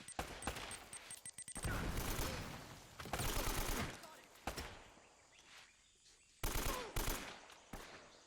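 AK rifle fire in Uncharted: Drake's Fortune, sharp rapid bursts of automatic gunfire with loud stretches of sustained shooting, brief gaps and a few isolated shots, over background game ambience.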